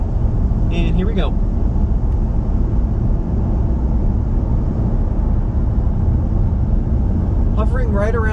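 Steady low road and engine drone inside the cabin of a 2020 Nissan Titan Pro-4X pickup cruising at 60 mph, constant and even throughout, with brief voices speaking near the start and end.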